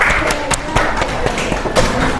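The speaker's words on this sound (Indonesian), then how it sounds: "Ayo tepuk tangan dulu" Primary school classroom students clap their hands together in a brief burst of irregular, fairly close claps with thumps and light background voices.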